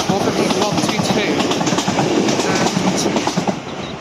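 A train passes Barnes No.2 level crossing in Greater London, loud and close, with a continuous rumble and rhythmic clickety-clack of wheels over the rails that eases toward the end, while people talk over it.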